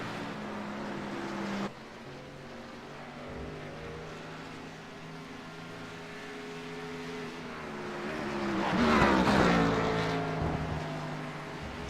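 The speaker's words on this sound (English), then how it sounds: "We're going to watch the Relentless Racing Series Xfinity cars really getting around this very long road course here at Watkins Glen" Xfinity series race cars roar around the Watkins Glen road course, a sustained engine drone that shifts pitch as cars pass, swelling into a loud close pass near the end.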